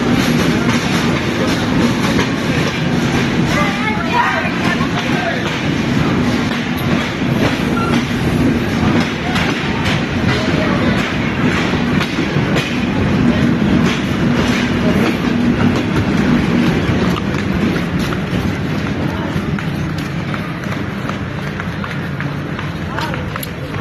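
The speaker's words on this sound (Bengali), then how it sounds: "এই ট্রেন দেখতে পাচ্ছেন, এই ট্রেনে আসছে" Kopotaksha train pulling into a station, a steady loud rumble with rhythmic wheel clatter throughout, while people talk nearby.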